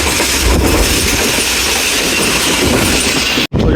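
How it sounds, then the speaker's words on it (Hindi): The Jaffar Express passenger train rolls through Ghungrila station, giving a loud, continuous rumble of wheels and carriages close by that cuts off abruptly near the end. "घुंगरीला से पास थ्रू हो रही है हमारी ट्रेन 40 टाउन जाफर"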